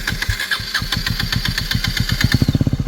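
A motorcycle engine cranks and catches, its rapid low firing pulses growing louder and steadier toward the end as it settles into a running idle, with no talk over it.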